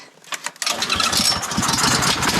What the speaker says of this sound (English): this has been the easiest engine of all of our engines to start